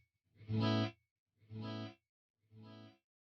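Electric guitar through a CorOS circular delay on tap preset 1: a single chord followed by two fading repeats, three evenly spaced swells each softer than the last, quiet and alone.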